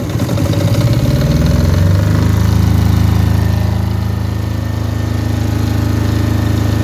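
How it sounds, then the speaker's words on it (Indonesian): A Kipor KDE6500T silent diesel generator cranks and catches, then settles into a steady, loud, low rumbling idle heard up close with no voices. "mesinnya sudah menyala, sangat mudah menyala. Itu keunggulan dari diesel ini."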